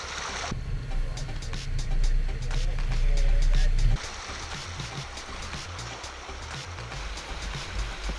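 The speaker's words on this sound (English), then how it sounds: "that's the wade sensing telling us how deep the water is" A vehicle's wade-sensing system beeps in a repeated, regular series of short tones while the vehicle drives through water, over low engine rumble and splashing water that drops off partway through.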